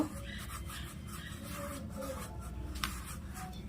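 Flour dough for nimki being kneaded by hand with a little ghee: soft, close rubbing and squishing in a steady rhythm, without speech.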